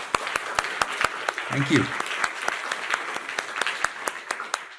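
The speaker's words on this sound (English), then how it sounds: "And another round of applause." Sparse, distinct claps from a seminar audience on AI technology ring out as separate sharp hits in a slow, uneven rhythm, with a brief spoken thanks over them.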